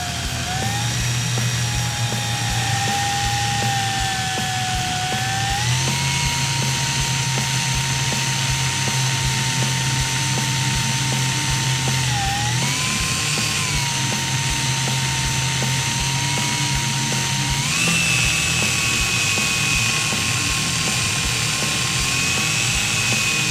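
A drill motor whines steadily and loudly while twisting wire for a fused Clapton vape coil, its pitch stepping up and dipping a few times as it keeps spinning.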